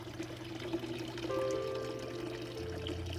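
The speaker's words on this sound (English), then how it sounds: "I love my water fountain in here." Water trickling and pouring from an indoor water fountain, a soft continuous splash with a steady hum and faint tones in the background, no talking.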